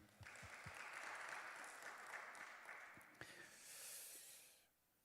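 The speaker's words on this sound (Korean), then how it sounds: "우리 도훈 형제에게 박수를 좀" A Korean church congregation applauds a member after a sermon moment, a faint, steady patter of clapping lasting a few seconds before fading out.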